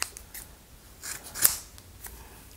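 Scissors snipping hair, several short, crisp, close cuts with brief pauses between them, one sharper snip standing out, in an otherwise quiet room.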